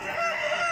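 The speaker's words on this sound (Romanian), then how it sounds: "Avem aici un cocoș." A rooster at a national poultry exhibition gives a short, bright crow, loud and close, cut off after less than a second.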